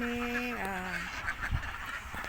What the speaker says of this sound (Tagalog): magche-check po ako ng aming mga itik